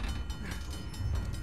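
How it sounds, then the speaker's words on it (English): A train in the game Uncharted: The Lost Legacy rumbles steadily nearby with a low, continuous rolling and clattering drone that holds at a constant level throughout. "Train's getting closer!"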